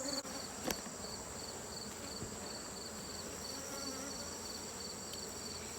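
Honey bees hum around an opened hive, a continuous, fairly faint buzzing swarm with a steady high whine and a brief tap near the start.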